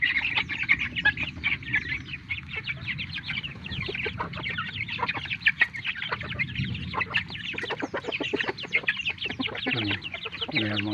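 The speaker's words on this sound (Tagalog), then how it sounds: "Yan ang mga alaga kong manok." Pet chickens, a hen among them, cluck and chatter nearby in a busy, continuous stream of short calls, with some human voices faintly mixed in.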